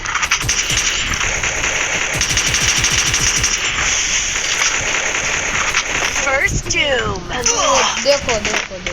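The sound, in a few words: G36 rifle machine-gun fire in a video game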